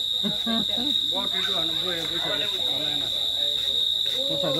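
Crickets chirping at night: a thin, continuous high trill runs steadily in the background while people talk over it throughout.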